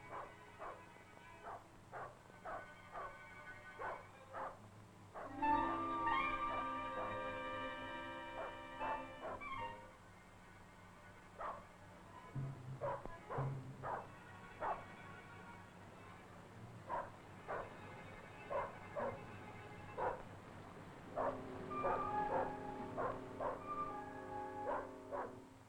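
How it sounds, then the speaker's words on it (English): A hunting dog barks repeatedly at a cornered bear, sharp yelping barks coming in uneven bursts, some closer and louder, with whimpering cries mixed in over a dull background rumble. "the dog's barking tells Anand that the bear has been cornered"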